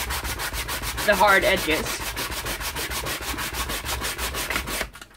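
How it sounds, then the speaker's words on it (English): Wood edges being sanded by hand with P120 sandpaper while making modular RPG terrain roads: steady, close rhythmic rasping strokes for about five seconds, loud and alone, stopping abruptly at the end. "P120 ordinary wood sanding paper. So I just go in and I sand down"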